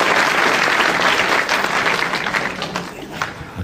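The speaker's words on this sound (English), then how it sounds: "A crowd that obviously appreciate their skills, escaping skills and counter skills, because already they've clapped the escapes" A wrestling crowd applauds loudly and continuously at a John Naylor versus Bearcat Bernie Wright bout, a dense roar of clapping that eases slightly toward the end.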